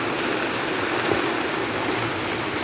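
Heavy rain pours steadily in Vattathur, Kerala, a dense, even hiss of water close by with no break or voices.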